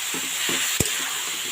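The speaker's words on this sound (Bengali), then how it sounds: "লাউ ভাজতে একটু সময় লাগে, আর লাউটা তো রসালো জিনিস, যার জন্য এটা ভাজতে অনেকটা সময় লাগে" Juicy bottle gourd frying in a pan, a continuous soft sizzle with a few gentle stirring scrapes and one sharp utensil knock, close and steady with no talking.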